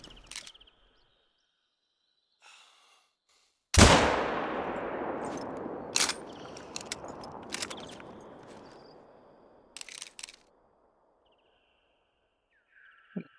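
A single loud rifle shot from a .338 rings out while hunting animals by a lake in a video game, trailing a long, fading echo. Faint clicks follow, and brief sharp bursts sound near the end.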